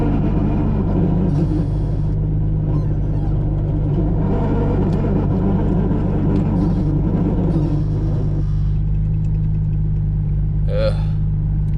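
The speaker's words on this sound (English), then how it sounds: "my throwout bearing just makes the worst noise" A 2JZ-swapped car with a noisy throwout bearing runs steadily, giving a constant low engine rumble with a harsh drone on top and some faint rattles, loud and close throughout.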